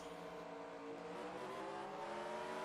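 Race car engines in an auto racing video game at the Atlanta '97 track produce a continuous, layered droning hum, steady and fairly quiet, with no voices.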